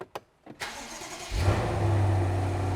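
A BMW M550i engine cranks and catches, then swells into a deep, steady exhaust rumble that settles into a loud, throaty idle close by.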